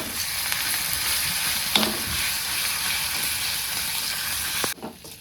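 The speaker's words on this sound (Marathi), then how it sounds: "तर मिरची पण छान अशी तळून झालेली आहे" Green chilies fry in hot oil for a batch of quick sabudana kachori, a steady close sizzle running throughout with a few light clinks before it cuts off near the end.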